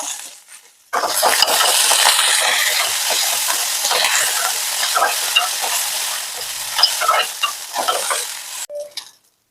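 Garlic, ginger, curry leaves and coriander fry in a pan, giving a loud close sizzle with busy stirring scrapes and clinks. It starts sharply after a quiet second and cuts off near the end, with no talking.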